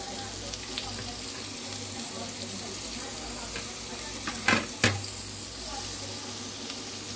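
Chopped vegetables with capsicum frying in a pan for veg fried rice, a steady sizzle with a couple of louder scraping stirs near the end.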